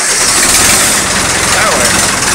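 A Massey Ferguson 178 tractor's diesel engine is cold started, with no glow plugs. A loud, continuous rough clatter fills the whole stretch, steady and close.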